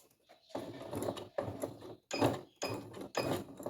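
A sewing machine stitches fabric in short bursts, its close mechanical whir starting and stopping four times with brief pauses between runs.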